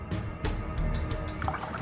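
Water from a bottle poured into a drink in a glass, a short run of close splashing drips and trickles over a faint background, with no talk.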